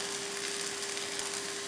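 Onion and green chilies sautéing in a pan for a kurma, a soft, even sizzle running steadily throughout with a faint constant hum beneath it, close by and without any talking.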